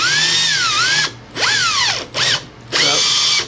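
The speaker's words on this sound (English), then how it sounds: "This is a 2-speed drill, so there's, you want it on the faster speed" A two-speed power drill whines at high speed in three separate bursts with brief pauses between them, its pitch rising and falling as the load changes. The drill is close and loud and works alone with no talk, used in a Glock channel liner repair.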